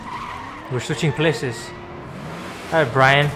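A car is driven hard and skids through a chase in the video game Resident Evil 6, with a rushing engine and tire noise beneath two voices talking over it.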